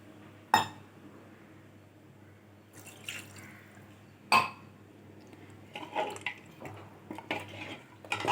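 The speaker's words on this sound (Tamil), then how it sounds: "இதுக்கு தேவையான அளவுக்கு தண்ணியை ஊற்றிக்கலாம்" A couple of sharp metallic clinks, then water splashing and trickling into a metal cooking pot for goat trotter paya in uneven bursts, close by with no talking.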